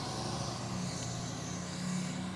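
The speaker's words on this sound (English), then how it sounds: "Nice truck though." A truck drives past outside, heard from indoors as a steady low engine hum and road rumble that holds throughout at a fairly soft level.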